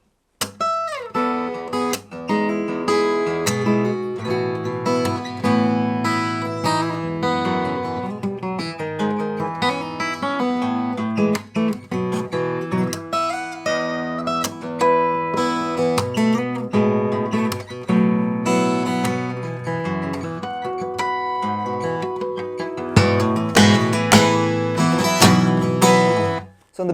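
A guitar plays a section of a song as a dense, continuous run of plucked notes and strummed chords, loud and close with no talking.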